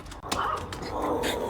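Several dogs bark and growl as their owner arrives home, a rapid cluster of short, close, excited barks with some yips mixed in.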